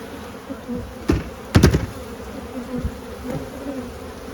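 Honey bees buzz around an open hive comb in autumn, a steady close drone with a few louder passes and bumps, with no talking.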